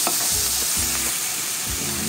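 Vegetables sauté in oil for pancit, hissing steadily while a utensil scrapes and stirs in three or four quick strokes against the pan.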